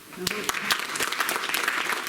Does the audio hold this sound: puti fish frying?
no